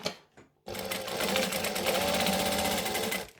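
A sewing machine runs steadily for about three seconds, stitching the side of a fabric pouch, after a brief pause with faint handling noise at the start.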